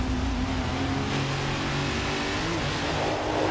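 Loud, close racing engines of a Nissan GT-R and a Ford Mustang GT fill the whole stretch with sustained accelerating roar and shifting pitch, no voices over it.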